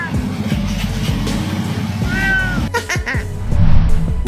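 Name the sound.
cat meowing after being woken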